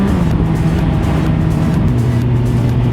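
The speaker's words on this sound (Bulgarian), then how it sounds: "След тези двете коли няма вече." Cars passing on a road during a motorcycle ride to the Sveta Troitsa area, a steady loud engine and tyre roar with a low hum that dips as vehicles go by, no voices.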